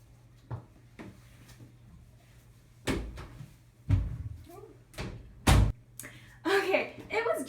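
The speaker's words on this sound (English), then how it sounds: "I'm gonna awkwardly open my bathroom door now" A bathroom door opens at home with a series of scattered clunks and thuds. Two heavier knocks stand out among them, and a brief voice comes at the end.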